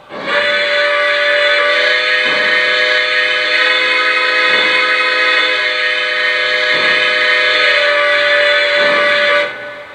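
A Lionel Legacy Milwaukee Road S-3 model steam locomotive sounds a loud, sustained electronic whistle, one steady chord-like blast of about nine seconds with faint pulsing, heard alone.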